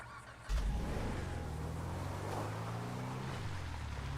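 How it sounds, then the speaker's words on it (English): A car engine in a video game drones past at steady volume, its pitch sliding downward as it goes by, with a constant hiss underneath. "It sounded like a normal car buzzing around, like a civ car."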